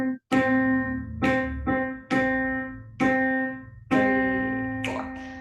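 Piano notes in a simple counted rhythm, long held tones alternating with pairs of quick notes, each attack sharp and then sustaining, played alone and close with no talk.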